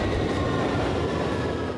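A London Underground tube train runs with a steady, loud, close rumble and rattle of wheels on track, with no voices.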